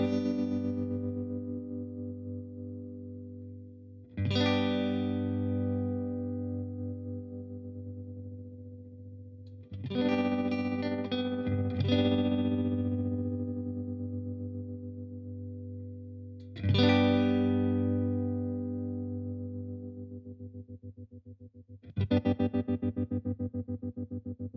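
Guitar chord strummed through an MXR M305 tremolo pedal, five separate strums each ringing out with pulsing volume as speed and depth change, from slow swells to a faster choppy flutter, played alone.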